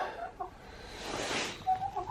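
Chickens cluck softly inside a coop warmed by a heat light during a below-zero Montana winter, faint and a little distant, with a few short calls over a quiet background.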